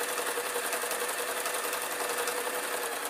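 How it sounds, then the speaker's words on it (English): A sewing machine top stitching a rag rug runs at a constant pace, making a continuous rapid mechanical whirring hum, close and steady throughout with no talking. "I'm going to top stitch again this rug"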